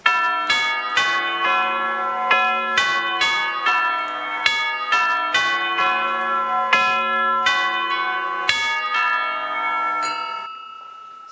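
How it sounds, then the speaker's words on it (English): A deep church-style bell tolling in a radio drama of Dickens' A Christmas Carol, many ringing strikes in steady succession with long overlapping resonance, loud and close, fading out at the end. "Scrooge awoke suddenly to the toll of the bell and sat up in bed."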